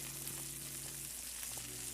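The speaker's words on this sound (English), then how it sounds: "You hear that sizzling? That's because your boy is cooking" Food frying in a pan, a steady crackling sizzle that stays even and fairly close, with a faint low hum beneath and no talking.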